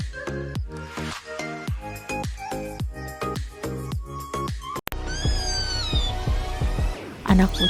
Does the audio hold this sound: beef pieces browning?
no